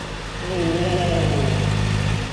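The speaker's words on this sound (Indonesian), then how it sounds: "Langsung kita ke ZX4RR. Saman rasakan perbedaannya. Kita nyalakan ya." A Kawasaki ZX-4RR motorcycle engine catches and settles into a smooth, low idle, close and fairly loud after a brief quieter lead-in.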